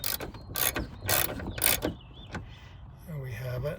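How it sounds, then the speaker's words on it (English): A ratchet tightens the bolts on a van's power sliding door motor, producing several bursts of quick clicking and mechanical rattling close by, followed by a softer whirring tone. "We will now go ahead and tighten the 3 bolts on the motor"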